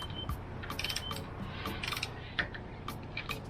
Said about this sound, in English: I need to tighten these two bolts to 10 Newton meters.